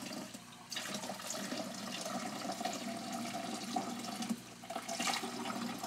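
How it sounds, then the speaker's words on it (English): Running water pours steadily into a container during black-and-white large format film developing, a continuous gushing splash with a surge partway through and no speech. "So now I'm going to empty out this container and let that fill up with what should be 75 degree water."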